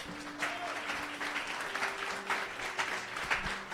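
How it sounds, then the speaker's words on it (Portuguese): A church congregation claps in a faint, distant burst of applause over a few seconds, while soft sustained musical tones linger in the background. "Aplaudam a Jesus!"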